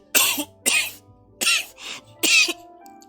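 Three sharp, loud coughs in a row, each a harsh burst with short pauses between, plus a softer throaty hack in the middle.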